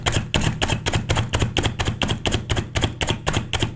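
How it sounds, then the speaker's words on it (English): A Slap Chop hand chopper pounds almonds into fine pieces, a rapid, loud, evenly spaced series of about fifteen sharp clacking strikes, with no voices. "We're going to hit it a couple more times and get these things really chopped up."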